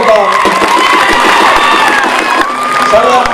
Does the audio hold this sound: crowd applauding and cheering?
yes